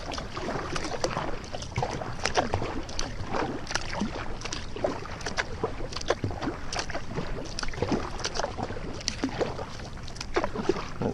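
A kayak paddled steadily along a shore near moored boats, with rhythmic splashing strokes and dripping water repeating close by, alone, against a light background hiss.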